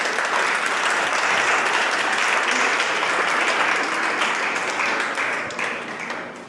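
A wedding congregation claps warmly for the groom and bride, a thick, steady applause filling the hall and tapering slightly toward the end.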